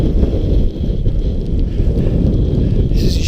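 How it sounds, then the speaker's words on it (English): Strong wind buffets the microphone on Blencathra mountain, a loud, continuous low rumble with gusting roar and no clear speech. "Listen to that wind."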